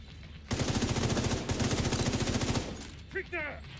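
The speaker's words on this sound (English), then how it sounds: "Deploying turret!" A deployed turret in a shooter game fires rapid sustained bursts, two long runs of dense machine-gun shots with a brief gap between them, followed by quieter sounds at the end.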